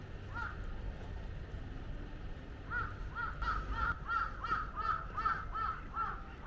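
Crows caw in a rapid repeated series, fairly distant, outside a winery near Tokyo, over a steady low background rumble.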